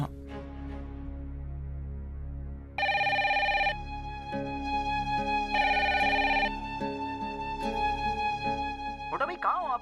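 A telephone rings in repeated electronic bursts over a dramatic background score in a Hindi TV serial scene, with a voice at the end.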